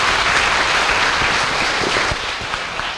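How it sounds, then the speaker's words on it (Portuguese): A crowd at a southern Goiás youth public policy conference in Brazil applauds steadily throughout, with dense, continuous clapping at a constant level and no talk. "uma grande salva de palmas a Deus e a todos"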